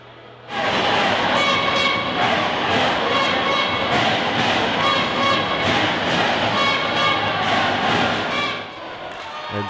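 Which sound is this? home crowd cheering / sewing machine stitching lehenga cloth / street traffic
home crowd cheering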